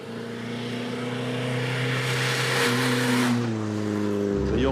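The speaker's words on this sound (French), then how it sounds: "un joli son métallique du moteur" Triumph car engine runs steadily with a smooth, metallic hum that rises slightly in pitch, then shifts as it revs near the end, heard alone and fairly close.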